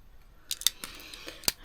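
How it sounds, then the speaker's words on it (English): Several quick, crisp scissor snips cutting paper sheet at a craft table, close and fairly quiet, spaced irregularly across a second or so with soft handling noise between. "So right now I'm going to cut this down to size."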